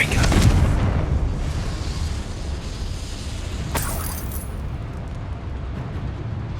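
The Confringo fire-blast spell bursts in Hogwarts Legacy with a heavy explosive boom and a roaring, rumbling blast that slowly decays, then a second sharp crackling flare partway through, with no voice over it.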